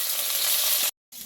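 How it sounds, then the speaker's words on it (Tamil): Loud, steady sizzling of spinach frying in hot oil, cut off by a brief silence before the sizzle resumes. "எண்ணெயில் வதக்கி எடுத்துக்கொள்வோம்"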